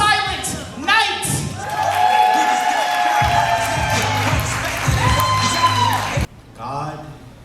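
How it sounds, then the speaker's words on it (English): A crowd at a poetry slam claps, whoops and cheers for a poet stepping up to the mic, with shouts and an announcer's voice over the noise before it cuts off sharply near the end. "please put your hands together for Silent Night"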